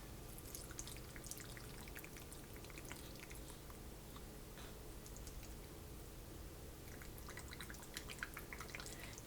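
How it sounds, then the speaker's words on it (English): Broth pours into jars of canned beef chuck roast, a soft continuous trickle and patter of dripping liquid, faint and close, with occasional brighter splashes throughout. "And then we are going to add broth."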